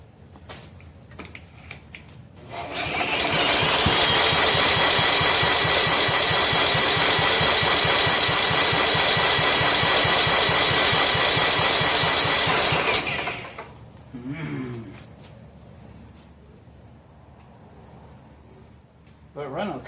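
A John Deere STX38 lawn tractor engine, recently backfiring and hard to start, catches and runs for about ten seconds with a steady rough mid-pitched drone, then cuts out, with someone talking around it.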